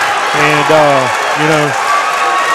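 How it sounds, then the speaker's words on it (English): Crowd at a heavyweight boxing fight cheering and applauding in a steady roar, with someone commentator talking loudly over it. "The crowd is really getting fired up here"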